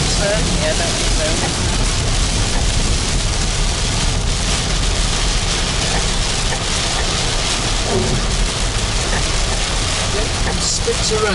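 Light spits of rain patter steadily on a car moving through outback country near the town of Cobar, Australia, a constant wash of noise with engine and road rumble beneath and occasional voices.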